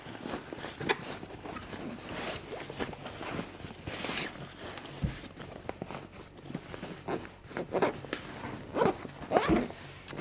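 YKK aqua-guarded zippers on a backpack being worked, with scratchy, irregular rasping pulls and small clicks spread through the stretch at moderate level.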